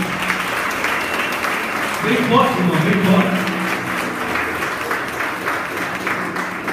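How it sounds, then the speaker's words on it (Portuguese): A church congregation applauds Jesus during an evangelical worship service, steady clapping running throughout with someone speaking over it and a brief burst of voices in the middle. "Você pode aplaudir Jesus aí?"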